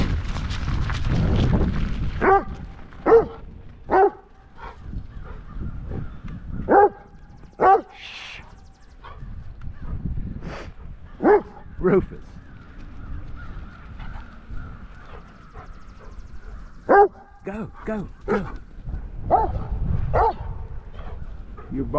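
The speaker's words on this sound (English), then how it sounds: "Your bark is so loud." A dog barks loudly and repeatedly in sharp bursts, some in quick pairs, close by throughout, with a person talking and urging it on between barks.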